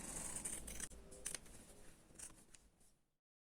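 Scissors snip through fabric for a small sewn rabbit, a soft close crunching cut that runs a few seconds and then falls silent.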